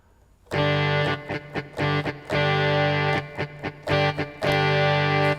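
A loud, sustained electric guitar with a distorted, reverberant effect tone, strummed in chord bursts with brief choppy breaks between.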